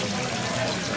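Water runs continuously through a decorative water feature, trickling down a model mountainside in a Christmas display in Palma de Mallorca; a soft, even wash of flowing water, close and unbroken.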